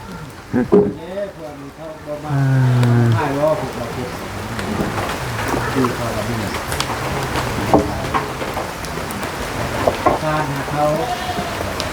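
Rain falls steadily at a house under construction, a constant patter under a voice talking for most of the clip.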